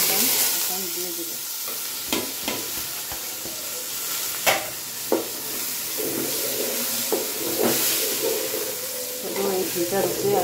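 Rice tossed and stirred in hot ghee with whole garam masala in a pot for chicken biryani, a continuous sizzle broken by repeated scraping stirs and clanks of the spoon against the pan, close and steady.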